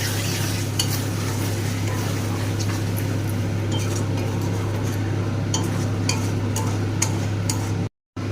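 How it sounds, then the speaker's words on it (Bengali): Paneer chilli masala stir-fried with little oil in a pan at home, giving a steady close sizzle and scraping stir with occasional clinks of the utensil against the pan, over a constant low hum. "এবার ভালো করে কষিয়ে নেব।"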